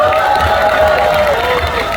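A festival crowd at the Mungyeong Omija Festival concert claps and cheers for the Mungyeong mayor, a loud, dense, unbroken roar of hands and voices.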